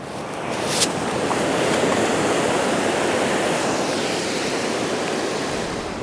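Sea waves breaking steadily on the shore at Bamburgh, a continuous loud roaring wash of surf with no pauses, heard alone without voices.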